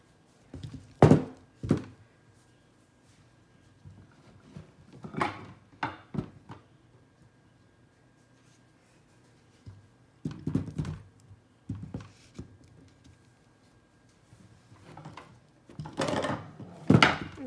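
Baseballs are set down on a display shelf with quiet, hollow wooden thunks, arriving in small scattered clusters with long still gaps between them.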